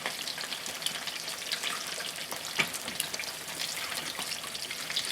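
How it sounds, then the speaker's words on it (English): Water poured into a pot of okra stew with tomato sauce, giving a steady faint hissing, sizzling wash that runs unbroken throughout with no voices. "Added a little bit of the water that I have."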